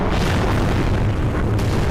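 Loud, continuous booming explosions from a Skibidi Toilet animation fill the whole stretch, a dense low rumble with no clear gaps between blasts.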